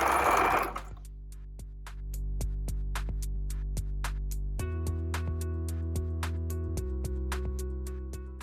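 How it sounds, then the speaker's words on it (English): A sewing machine stitches fabric for a zero-waste market bag, starting with a short burst and then running steadily through a back tack, with clear needle clicks repeating in a regular rhythm and no voices. "Once you get to the gap, remember to back tack."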